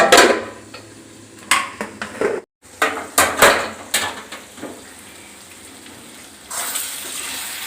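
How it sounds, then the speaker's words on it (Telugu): Sharp metallic clanks and clatters as a lid is put on a cooking pot while tomato egg curry cooks, several close knocks in quick succession, followed by a softer hiss and sizzle. "ఒక్క నిమిషం ఇప్పుడు మూత పెట్టేస్తే"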